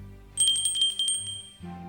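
A small bell in a forest thicket among stones rings in a quick burst of about eight bright, close strikes, then stops as a low hum comes in, with no voices.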